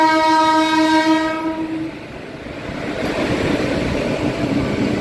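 LTT Express from Lokmanya Tilak Terminus to Visakhapatnam blares one loud, sustained horn, then rolls past close by with a steady rumble of wheels and cars.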